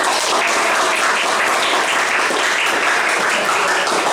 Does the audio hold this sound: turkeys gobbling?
no